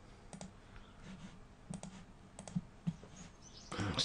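Several sharp, quiet computer mouse clicks in a quiet room, spaced irregularly while working in PDF booklet-imposition software, with a louder burst of handling noise at the end.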